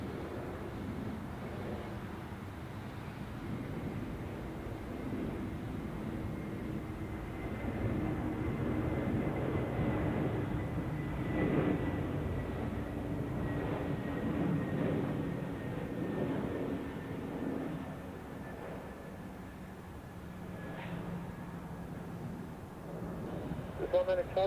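An Airbus A321 at Zurich Airport produces a distant, low engine rumble with a faint high whine, swelling slightly in the middle while people talk over it.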